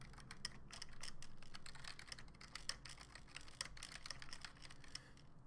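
Quiet, rapid clicking of keys on a computer keyboard as notes are typed, an irregular stream of light taps running continuously at a moderate distance.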